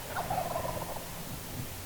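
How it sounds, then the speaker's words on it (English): Wild turkeys gobbling on a windy, cold morning at a roost in Maine, a faint rolling gobble heard at a distance over steady wind noise. "They've been gobbling since it was dark out."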